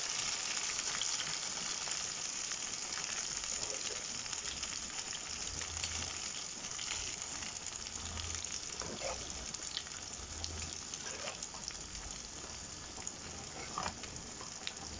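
Onions and a mixture frying in a covered pan in a home kitchen, giving a continuous crackling sizzle with scattered pops that stays steady and moderately loud throughout.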